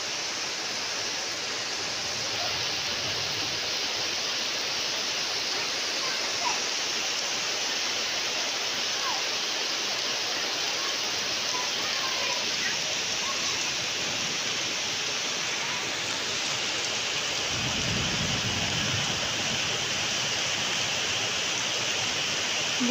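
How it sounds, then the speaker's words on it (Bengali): Light steady rain falls on a fish pond, a soft even hiss holding for the whole stretch with a low muffled thump near the end. "বৃষ্টির আওয়াজ হচ্ছে"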